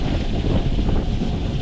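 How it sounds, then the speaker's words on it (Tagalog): Wind blows steadily outdoors across a cooking stove at a catering setup in Bamban, Tarlac, as a constant low rumble of gusts buffets the microphone. "mahangin dito. Kaya yung kalan natin sumasayaw."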